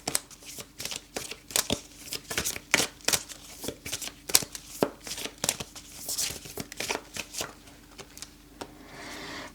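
Cards being drawn and shuffled from a pile during a card reading, a rapid irregular run of papery flicks, slaps and rustles close to the listener, with no voice over them.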